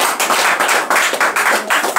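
A congregation at a church communion service gives a short burst of clapping, close and loud, with rhythmic pulses of hands beating together.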